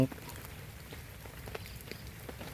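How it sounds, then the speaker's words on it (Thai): Rain patters steadily on surfaces during a fishing outing at a pond, with a soft, continuous hiss and scattered drop taps at moderate distance. "ฝนมาเนี่ยโคตรน่ากลัว"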